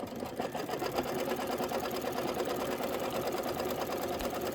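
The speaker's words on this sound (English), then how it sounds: "This is the tack down stitch." Embroidery machine stitching a tack-down pass on a Halloween witch hat pillow appliqué, a steady rapid needle chatter running continuously and close throughout.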